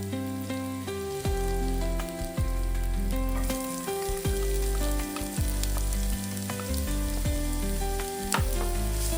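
Onion sizzles and fries steadily in a hot pan, a dense continuous crackle with repeated scraping strokes of stirring close up, while an Agri-style clam sukka dish is being cooked.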